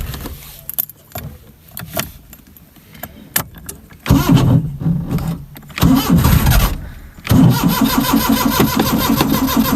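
A car engine cranks repeatedly with difficulty, several stuttering attempts and key jingles before it catches and settles into a steady idle, close up.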